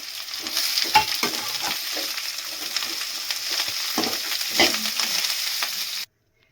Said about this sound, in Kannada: ಕೊಬ್ಬರಿ ಇದ್ದೀನಿ ಟೊಮೆಟೊ ಹಾಕ್ತಾಯಿದ್ದೀನಿ ಕೊತ್ತಂಬರಿ ಪುದೀನ ಸ್ವಲ್ಪ ಹಾಕ್ತಾಯಿದ್ದೀನಿ ಇವೆಲ್ಲ ಚೆನ್ನಾಗಿ ಸ್ವಲ್ಪ ಫ್ರೈ ಆಗಲಿ